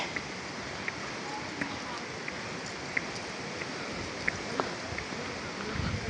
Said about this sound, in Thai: ฟังเสียงน้ำตกลงนะครับ